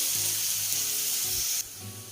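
About 250 grams of mussels sizzle in a pan for Odessa-style plov, a close, steady hiss with brief stirring scrapes, then the sizzle drops abruptly to a quieter level near the end.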